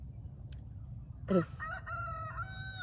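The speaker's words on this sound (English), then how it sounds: "Our rooster's been crowing." A rooster crows once nearby, a strained, rising and falling call over quiet background hum.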